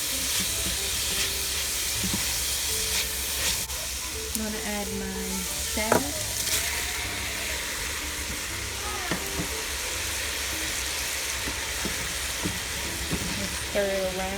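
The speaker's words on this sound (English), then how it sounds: "stir it around. All of this is being done on medium heat" Picadillo of ground beef with potatoes and carrots frying in a pan over medium heat gives a steady close sizzle and hiss, with a few scrapes and clinks of stirring scattered through.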